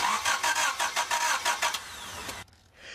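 A car engine with no spark cranks over repeatedly in a fast, even rhythm of starter pulses for over two seconds, then cuts off abruptly.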